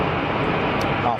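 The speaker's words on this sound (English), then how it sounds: "So, EasyJet on a short final." An EasyJet airliner on short final at Geneva Airport gives a brief, steady broadband roar of jet engines, loud and unbroken, with a voice faintly present.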